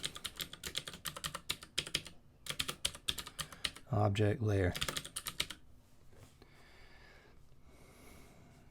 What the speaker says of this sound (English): Wait for my typing to catch up there.